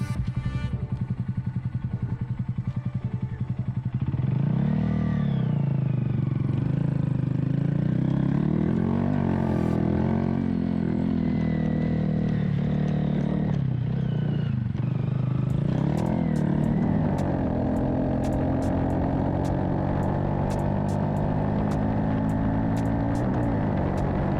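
A small motorcycle weighing 239 pounds runs close by, its engine note rising and falling through several revs over a steady drone, with clattering ticks near the end.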